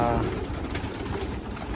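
Pigeons coo softly amid a busy background of rustling and low noise at a pigeon racing event in Capistrano, with a voice faintly present.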